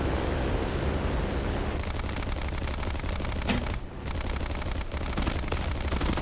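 Rapid machine-gun fire from an enemy aircraft in War Thunder, a dense continuous rattle of shots over a steady engine drone, loud and close throughout with a brief dip near the middle.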